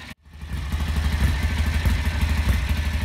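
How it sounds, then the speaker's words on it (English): Ducati 750 Supersport with its bevel drive engine running; after a brief silent gap, a loud close-up throbbing idle with a steady, lumpy pulse and mechanical clatter, alone without voices. "The original 750 Supersport with that bevel drive engine is a fabulous machine to behold. It's very beautiful, sounds sensational"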